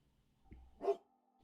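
A single dog bark, one short sharp burst standing out clearly against a quiet room with faint steady background hum.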